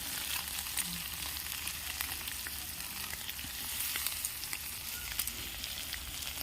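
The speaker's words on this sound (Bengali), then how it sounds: "দেখো আমি ভেজে নেবো এরকমভাবে।" Small chuno fish sizzle in hot oil in a pan for a Bengali sour fish dish, a steady close crackle with scattered sharper pops and no voices.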